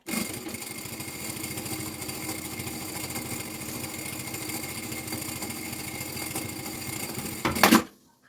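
A sewing machine runs continuously, stitching a seam on a preschool backpack with a steady mechanical whir, close and fairly loud, stopping abruptly with a clunk near the end.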